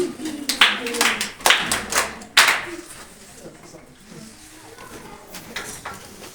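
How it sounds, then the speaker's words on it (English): A small group claps at a climate change conservation session: several loud bursts of applause in quick succession, then it fades into faint scattered taps and room murmur. "Okay, clap for yourself."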